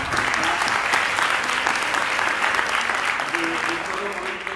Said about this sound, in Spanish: ponte un aplauso también para la facultad